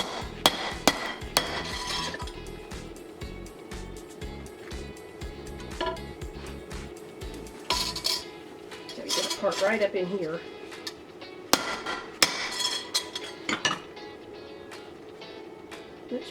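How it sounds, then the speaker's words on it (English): A sledgehammer repeatedly strikes a copper bracelet on a metal surface, sharp ringing metallic bangs in irregular bursts close by, with someone talking between blows. "try to flatten this some more with the sledgehammer"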